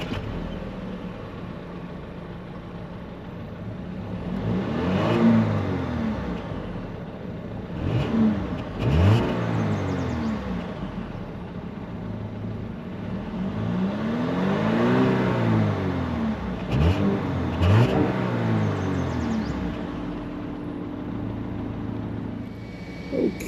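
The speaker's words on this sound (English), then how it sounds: "take a listen to this 2-liter turbo from those real exhaust tips" Turbocharged 2-liter engine of a 2025 Audi Q5 revving through its exhaust tips, with repeated throttle blips that rise and fall in pitch, two clusters of revs close and loud over a steady idle, no talking.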